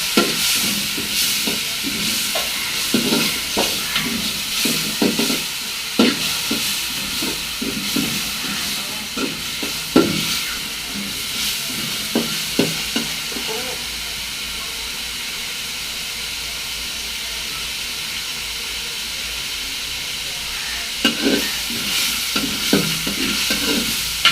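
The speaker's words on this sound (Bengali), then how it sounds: "রসুন বাটাটা তেলের মধ্যে ভালো করে একটু ভেজে নিলে" Garlic paste sizzles and hisses steadily in hot oil, with intermittent scraping and stirring clatter from a spoon against the pan, close up.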